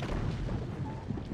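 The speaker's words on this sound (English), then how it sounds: "That's gonna be a chain reaction of explosions." Explosions chain together in the video game Journey to the Savage Planet, producing a thick, continuous low rumble of booms with small bursts on top. The sound is steady and fairly loud, with no voices.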